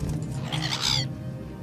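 A bird creature attacking in The Elder Scrolls III: Morrowind gives a brief, harsh screeching squawk, loud and close, fading out after about a second.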